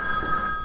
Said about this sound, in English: then something just starts ringing